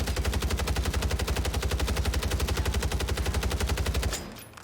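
Assault rifle fired in full auto in Warzone 3: a loud, close, evenly spaced burst of about four seconds of rapid shots, then an abrupt stop and a short fading tail.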